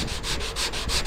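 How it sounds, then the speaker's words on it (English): Rhythmic back-and-forth strokes sanding primer on a car body panel rasp steadily, close and even, about eight passes in quick succession. "if I just keep sanding it, if I hit metal, I need to stop."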